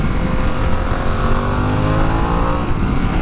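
A Harley-Davidson Pan America motorcycle engine accelerates hard in off-road mode with a loud, rough, continuous roar whose pitch climbs steadily, heard close up with rushing wind.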